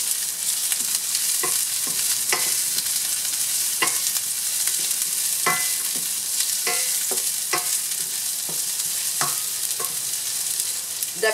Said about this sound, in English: I'm going to add the ginger and allow it to saute until very aromatic.